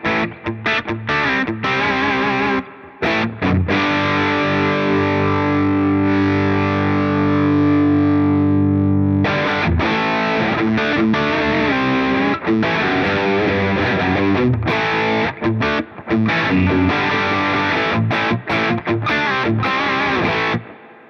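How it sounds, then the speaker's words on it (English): Electric guitar played through the germanium fuzz circuit of a Strymon Sunset dual overdrive pedal, thick distorted chords and sustained notes ringing out loud, with short pauses between phrases and no talking. "Let's flick it down to the fuzz circuit, or the germanium circuit"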